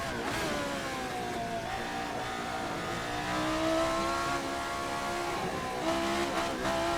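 A high-revving engine note from the RSS Formula 79 open-wheel racing car in a racing game, a sustained, whining tone that rises and shifts with throttle changes, close and steady with no talking.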